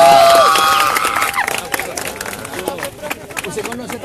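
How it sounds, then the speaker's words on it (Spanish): University crowd at a Sergio Fajardo event applauding and cheering loudly, with whistles and shouts early on and a dense clapping roar that continues throughout. "Todos un aplauso para Fajardo."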